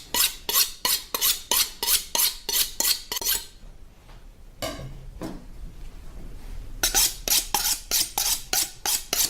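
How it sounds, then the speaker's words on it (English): Kitchen knives drawn along a honing steel, a rapid run of bright rasping metal strokes at an even rhythm, close and loud, pausing for a few seconds before another quick series of strokes resumes. "Right now, I'm just going to quickly straighten up these knives."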